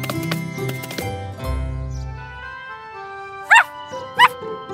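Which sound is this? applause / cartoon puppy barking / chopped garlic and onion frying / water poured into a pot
cartoon puppy barking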